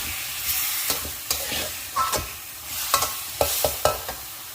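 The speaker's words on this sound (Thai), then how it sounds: "แล้วก็ผัดส่วนผสมให้เข้ากันนะคะ" Vegetables stir-fried with seasoning sauce and sugar in a hot pan make a steady sizzle broken by repeated spatula scrapes and clacks against the pan in an uneven rhythm. The sounds are close and there is no talking.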